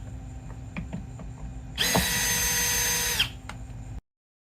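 A power drill backs screws out of a Litter Robot 4 cat litter box, with one steady whirring run of about a second and a half, close and clear, between quiet handling clicks.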